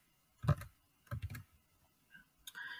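A few short bursts of keys clattering on a computer keyboard, quiet and close, separated by brief pauses.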